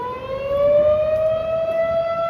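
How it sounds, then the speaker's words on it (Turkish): An ambulance siren wails in a long, steady tone that slowly climbs in pitch, fairly loud and close. "O da ambulans."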